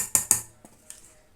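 A doi fulki batter mixed with water is stirred in a bowl. Two sharp clinks against the bowl come close together, then lighter taps follow, and the sound fades away with no talk.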